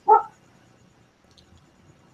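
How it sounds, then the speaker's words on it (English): A single short dog bark, fairly close and loud at the start, then near silence with faint background noise. "My dog's going off."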